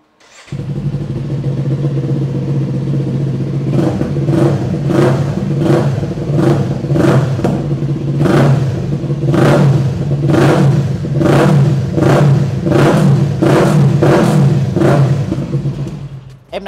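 A Kawasaki motorcycle with a loud AK aftermarket exhaust idles, then is revved repeatedly in a steady series of sharp blips, close up.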